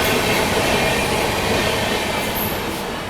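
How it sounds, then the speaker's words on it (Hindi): Loud, steady rumble of an express train pulling out of Nizamuddin railway station in Delhi, continuous wheel roar and rail noise close by, with a faint high squeal near the end and no voices. "अभी तेलंगाना निकली है और उसके जस्ट बाद ये निकल रही है"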